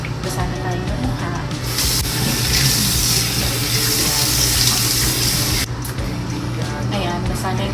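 Running tap water splashes steadily into a sink as a face is wetted during washing, a close, continuous spray with shifting splashes and a few brief breaks.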